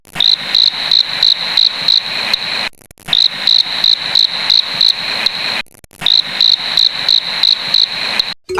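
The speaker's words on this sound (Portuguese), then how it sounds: "Acertou quem respondeu grilo." A cricket chirps loudly and close, in rapid even trills repeated in three bursts separated by short pauses.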